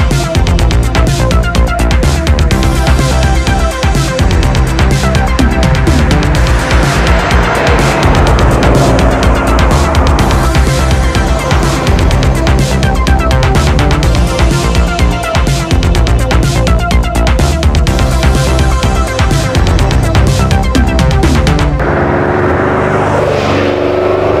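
A 1979 Ferrari 512 BB drives hard and close with a loud, sustained engine roar and shifting revs throughout, ending in a sudden quieter tail.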